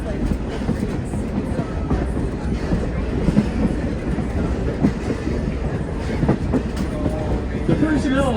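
A heritage passenger train run by volunteers of the California State Railroad Museum in Sacramento rolls along the rails, giving a steady loud rumble with rhythmic clickety-clack from the wheels throughout, heard from on board.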